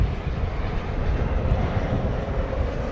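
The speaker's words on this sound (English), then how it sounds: "when we see a 757, we always hope for a nice sharp angle of departure" A Boeing 757 jet departing DFW Airport at night makes a continuous broadband engine roar that stays fairly loud and even for the whole stretch, with no speech.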